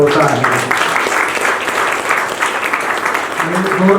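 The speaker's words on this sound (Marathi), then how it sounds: "आणि जोरदार टाळ्या सर्व मान्यवरांसाठी" Applause from an audience in an event hall at an entrepreneurs' gathering builds into a dense wash of clapping, while a voice speaks over it at the start and again near the end.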